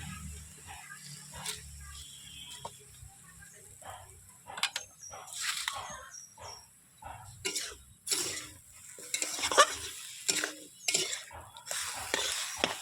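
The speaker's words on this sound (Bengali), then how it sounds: "হালকা নাড়াচাড়া করছি" A spoon scrapes and clinks through curry gravy in a pot, stirred in irregular bursts with soft sizzling between, while a voice talks intermittently and someone coughs.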